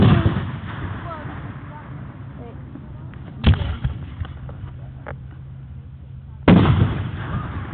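Fireworks go off outdoors in Oregon with two sharp, loud bangs a few seconds apart, each followed by a short decaying crackle, over a backdrop of quieter pops and outdoor noise.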